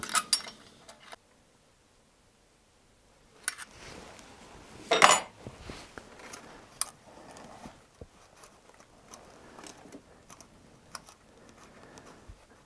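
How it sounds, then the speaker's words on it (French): A valve adjuster nut on a Peugeot 205 TU3 engine is tightened while a screwdriver holds the threaded rod, giving faint, close, scattered metallic clicks, taps and scrapes with quiet pauses between them. "Je serre en maintenant la tige filetée avec le tournevis pour pas qu'elle tourne"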